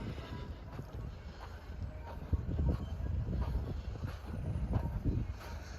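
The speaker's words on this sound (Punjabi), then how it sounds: "ਹਵਾ ਚੱਲ ਰਹੀ ਥੋੜੀ ਥੋੜੀ" Gusty outdoor wind buffeting the microphone in a farm field during wheat sowing, with low rumbling bursts rising and falling throughout, fairly close and steady.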